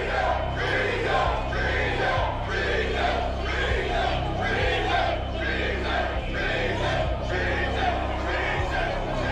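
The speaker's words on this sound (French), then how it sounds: "une foule de manifestants envahit le Capitole" A dense crowd of protesters storming the US Capitol in Washington, a continuous roar of many voices with rhythmic chanting swells, loud and close throughout.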